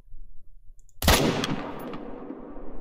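A single rifle shot at a puma in theHunter: Call of the Wild, hunting at long range on Silver Ridge Peak: one sharp, loud crack against quiet ambience, followed by a long echoing decay that rolls on for nearly two seconds.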